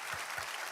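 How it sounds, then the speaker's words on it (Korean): A church congregation claps together during a Sunday worship service, a brief burst of dense, even applause filling the hall at moderate volume. "하나님께 영광의 박수를 올려드리겠습니다."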